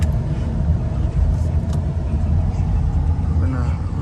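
A 2003 Lexus LS430 with a 4.3L V8 drives along with a steady low engine rumble and road noise from inside the cabin, with brief voices faintly mixed in.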